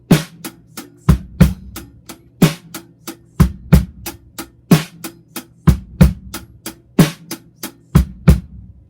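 A drum kit plays a groove in 7/8 time: loud, crisp hits repeat in a steady odd-metre pattern with strong accented beats, heard alone without any voice.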